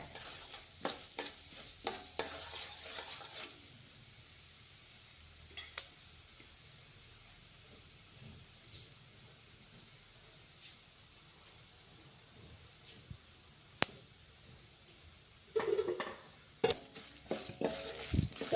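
Chana dal and urad dal fry in a pan for coconut rice, a faint low sizzle with bursts of spatula scraping and metallic clinks at the start and again toward the end, quieter in between.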